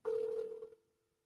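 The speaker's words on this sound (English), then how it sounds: "I'm gonna give Jerry a call real quick and find out what's going on" A telephone dial tone sounds while a call is being placed, a steady near tone lasting under a second before cutting off to silence.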